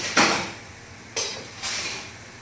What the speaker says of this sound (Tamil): கத்திரிக்காய் உடையாமல் லைட்டாக அப்படியே மிக்ஸ் பண்ணி